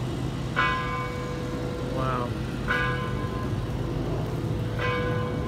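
A bell at Oak Hill Cemetery in Georgetown, Washington DC, rings in three distinct, evenly spaced strikes with a clear tone over a steady background rumble, and a voice speaks briefly between them.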